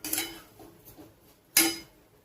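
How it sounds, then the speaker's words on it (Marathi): Rice and coriander are stirred and sautéed in a pan, with a sharp metallic clink of the utensil against the pan, soft scraping, and a second louder clank a moment later. "आता याला छान असं परतून घ्यायचं."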